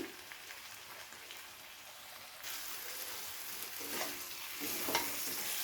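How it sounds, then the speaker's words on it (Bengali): Potatoes and flat beans fry in a pan with a steady broadband sizzle that grows louder partway through, punctuated by a few stirring scrapes, with no voices. "দু থেকে তিন মিনিট আলুগুলোকে আমি সিমের সঙ্গে ভেজে নিচ্ছি"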